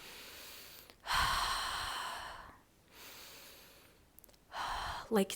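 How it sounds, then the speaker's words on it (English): A few deep breaths in and out, close and airy, each long inhale or exhale lasting a second or more with brief quiet gaps between, ending in a short sharp breath. "you have to feel this deep breath"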